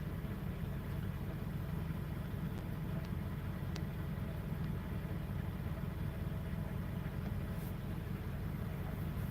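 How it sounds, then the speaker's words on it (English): A noisy truck idles nearby, giving off a steady, low, continuous engine rumble that stays even and fairly faint throughout. "There's a noisy truck next to me."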